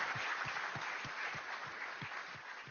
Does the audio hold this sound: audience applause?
yes